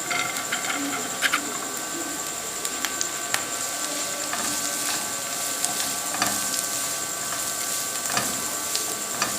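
Chopped carrots and vegetables sauté in a pan with a steady close hiss and sizzle, broken by frequent faint clicks and scrapes.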